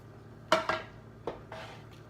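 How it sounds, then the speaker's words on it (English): A lid comes off a pot of cooking rotini pasta, followed by a spoon stirring, heard as a few close, sharp metallic clanks and knocks spaced across a couple of seconds, alone without speech. "Take the lid off. Give it a stir."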